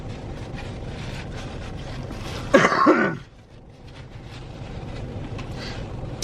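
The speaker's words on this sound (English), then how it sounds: "Not solely just a cough" A single sharp cough bursts out at close range, loud against a steady background hum, then drops off into quieter ambient noise.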